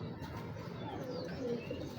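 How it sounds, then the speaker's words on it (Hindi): A Madani pigeon gives soft, low coos near the end, quiet against a hushed background with faint other bird chirps. "ये है मदानी कबूतर।"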